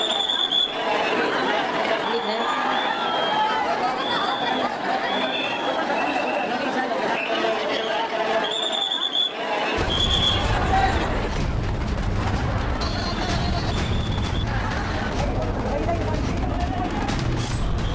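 A huge crowd packs Surat railway station as people try to board a train, a dense, continuous murmur of many voices and movement with a deeper rumble joining midway.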